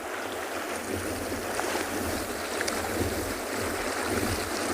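Wind gusts across a penguin beach by the water, a constant breathy roar with low rumbling buffeting on the microphone and surf washing beneath, steady and unbroken with no voices.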